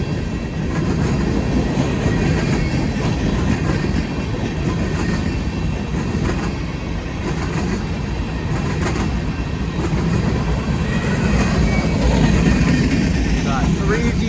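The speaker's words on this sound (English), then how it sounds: "Got 3 DPUs in the middle of this train." Long freight train with three mid-train DPU locomotives rolling past on Sublette Avenue in January, a steady, loud rumble of wheels and railcars with rhythmic clickety-clack and brief engine drone, continuous throughout.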